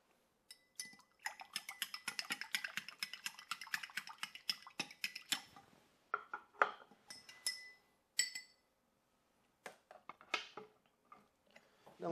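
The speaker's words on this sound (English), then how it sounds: "I just want to get a good stir before I put ice in it." A spoon stirs cranberry juice cocktail in a drinking glass, giving a rapid run of bright clinks and taps against the glass, then scattered, separated knocks near the end.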